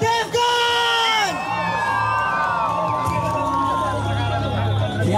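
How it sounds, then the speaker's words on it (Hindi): A large audience cheers and whoops loudly and continuously for actor Ajay Devgn at a special appearance, with excited shouting rising over a steady roar of voices. "जोरदार तालियां अजय देवगन!"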